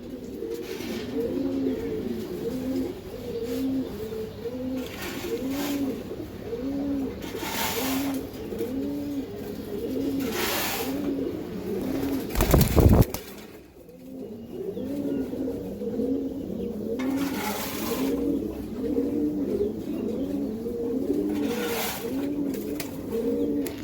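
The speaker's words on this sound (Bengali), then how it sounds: "ওভার হাই ফ্লিয়ার কবুতর" Pigeons coo continuously in a steady, overlapping rhythm, close and fairly loud, at a loft of Giribaz and Iranian high flyer pigeons; a brief loud bump or rustle cuts in partway through.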